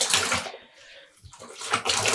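Dyed yarn dunked and rinsed in water, close splashing and sloshing at the start and end with a quieter dripping pause in between.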